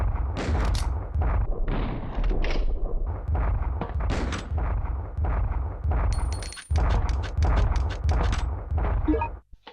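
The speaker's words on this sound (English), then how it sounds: "let's test the Magnum out" A Magnum revolver in Resident Evil Survivor fires about a dozen loud, booming shots at a slow, fairly even pace, each with a heavy low thump, ending in a brief click near the close.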